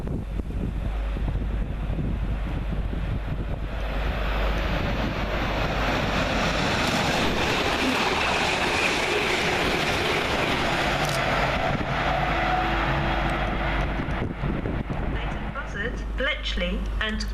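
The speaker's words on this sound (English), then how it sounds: "Next, flying through the station, 350-255 and 350-266, working 1 Yankee 18 from Birmingham New Street to London Euston." Class 350 passenger trains racing through Watford Junction station, a loud, steady rushing roar with wind buffeting that fills the whole stretch, easing slightly near the end.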